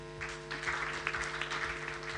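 An audience at an International Women's Day 2024 gender equality event applauds in a steady, fairly faint wash of clapping, with a low steady hum running underneath.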